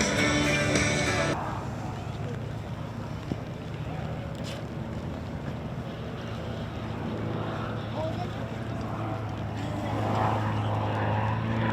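A propeller aerobatic airplane flies a display pass at an air fair, heard as a distant, steady engine drone under wind and crowd ambience, fading slightly before swelling again toward the end.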